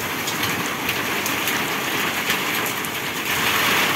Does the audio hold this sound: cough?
no